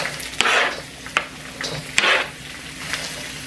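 Zucchini and carrot hit hot olive oil in a pan and sizzle loudly, with a few sharp bursts as the vegetables go in and get stirred, then a steady frying hiss.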